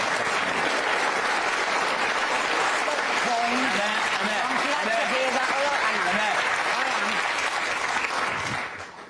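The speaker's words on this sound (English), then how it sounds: "Give me a round of applause" A studio audience at a daytime talk show claps in sustained, dense applause for several seconds, loud and even, with some indistinct voices mixed in before it tapers off at the end.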